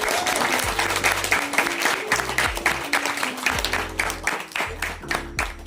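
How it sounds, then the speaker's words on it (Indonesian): Audience applause for Bu Seliabit at a school live-in gathering in a Dayak Wehea village, Nehas Liah Bing, steady and loud throughout, with rhythmic low musical notes playing underneath. "tepuk tangan dulu untuk Bu Seliabit"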